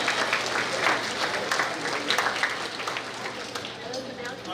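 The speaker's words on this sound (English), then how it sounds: "please give them a round of applause" A round of applause rises from the audience at a school awards day, with sustained, dense clapping that carries at an even level throughout and fades slightly toward the close.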